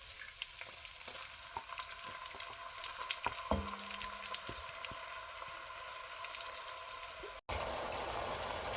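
Ground onion paste fries in a pan, sizzling steadily and loudly with scattered pops and crackles, a stirring scrape partway through, then a brief cut before the hiss carries on even louder.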